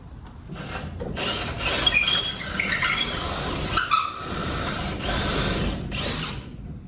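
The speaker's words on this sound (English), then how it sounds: "take my drill bit, put it back through" A drill bit grinds through material with a steady, harsh rasping noise lasting several seconds, close up and fairly loud.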